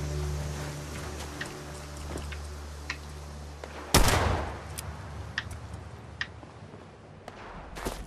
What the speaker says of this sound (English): there's some an actual live player shooting off